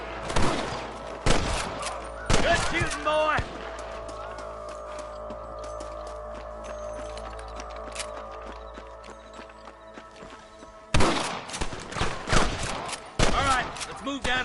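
Gunfire in the Western video game Red Dead, bursts of rapid shots in two clusters at the start and end with quieter horse hooves and music between, voices talking over parts.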